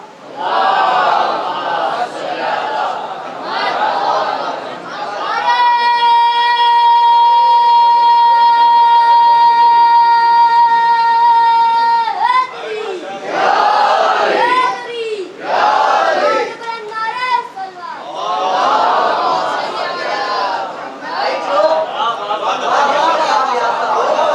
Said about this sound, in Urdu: بابا نے بلند نعرے صلوات۔